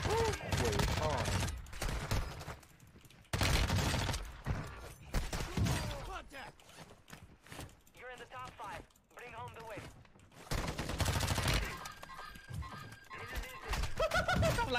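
Gunfire in the first-person shooter Warzone 2, with loud bursts of rapid shots and scattered single cracks coming in dense waves, mixed with game noise, while people talk.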